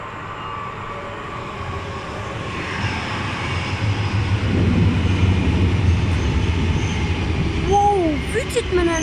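A Helsinki metro M300 train running: a rising rumble of motor and wheels that swells louder as it speeds up, with squeals and whines near the end and a voice faintly under it.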